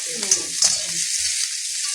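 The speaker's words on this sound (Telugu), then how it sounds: "మిర్చి కొంచెం వేగినట్టు వేయాలి, వెల్లుల్లిపాయలు అన్నీ వేగితేనే కొంచెం బాగుంటుంది కదా." Dried red chillies and garlic sizzle loudly in hot oil in a pan for tempering, a dense continuous frying hiss with a few small pops and clinks, no voices.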